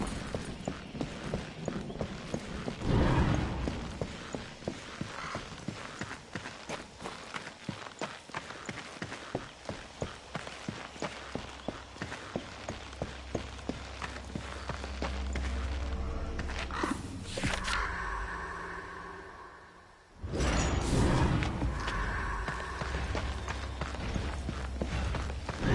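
Horse hooves gallop in the video game Darksiders 2 as a rapid, steady clip-clop that runs for a long stretch, briefly drops out, then resumes loud and close over game ambience.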